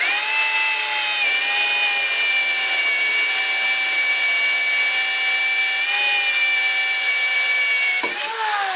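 A hole saw on a power drill bores through a wooden door for a door knob, a loud steady whine that runs nearly the whole time before a brief dip as the cut breaks through near the end.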